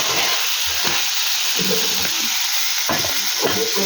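Slit green chillies hit hot oil in a pan while cooking a hilsa fish curry with black cumin, giving a steady close sizzle and frying hiss with a few stirring scrapes throughout.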